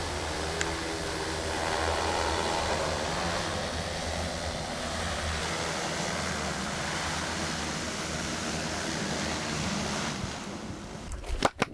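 A small agricultural spraying drone descends to land outdoors, its steady motor and propeller whine holding loud and even for most of the time before cutting out with a few clunks at touchdown.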